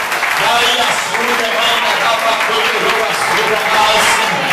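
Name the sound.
congregation clapping hands in church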